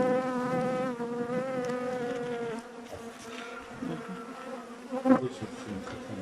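Black honey bees from a recovered swarm hum and buzz close around an opened hive, a dense, continuous drone with shifting pitches as individual bees pass near, rising slightly toward the end, with no talking.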